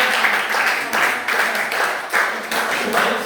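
A classroom audience claps after a group presentation, loud and close, with dense clapping in rhythmic surges throughout the short burst.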